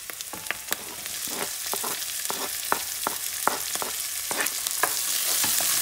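Chopped peppers fry in a pan with onion, oregano and cilantro for Puerto Rican rice, a loud steady sizzle punctuated by repeated sharp spoon scrapes and clicks as the mix is stirred, growing slightly louder toward the end.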